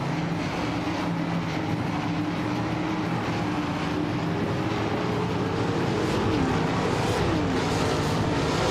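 Trans Am class 2021 Chevrolet Camaro race cars running on the track at a race start, a steady, dense engine roar with droning harmonics and a rising engine note near the end, no talk.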